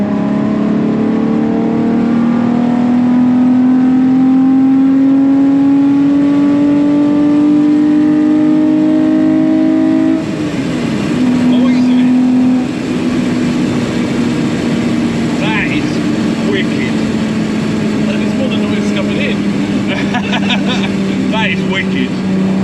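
A Toyota MR2 with a swapped 3.5 V6 engine drones loudly and close as it accelerates through the gears with one gear change partway, while people talk over the engine noise.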